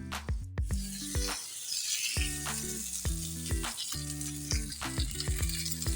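Pepes wrapped in banana leaf, filled with tofu, oyster mushroom or salted fish, cooking in a covered pan, a steady close sizzle and crackle with repeated knocks and scrapes.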